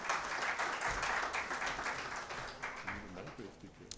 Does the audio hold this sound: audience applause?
yes